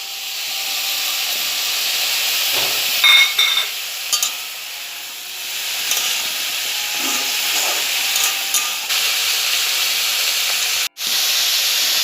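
Potatoes hiss and sizzle steadily in a hot pan while cooking, with occasional light clinks and stirring scrapes over a continuous frying crackle and no talking.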